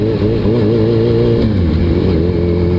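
A Suzuki Hayabusa motorcycle engine revs close up, its pitch climbing and dipping as it moves through low-gear upshifts. The engine drones continuously and loudly, with no talking.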